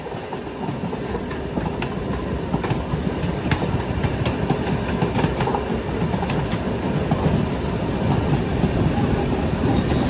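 A Thiruvananthapuram–Chennai Central mail train pulling into Perambur railway station, heard from on board with a loud, continuous rumble and rhythmic clickety-clack of wheels over rail joints, steady throughout with no voices.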